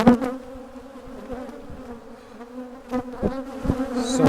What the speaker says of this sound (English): So stressful dealing with the bees when they're like this.